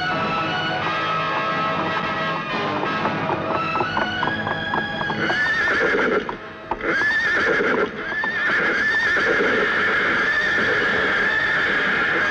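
Horse neighing repeatedly with hooves clip-clopping in a Hindi action film scene, loud and close, layered over a dense, continuous musical score.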